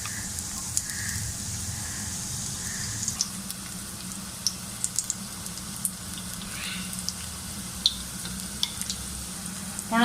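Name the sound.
dahi bhalla batter frying in oil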